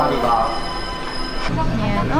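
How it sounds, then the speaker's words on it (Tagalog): A Keisei Skyliner train pulls into a station platform with a steady rolling rumble, a high sustained whine and some brake squeal, as people talk close by. "Hey, our train is here."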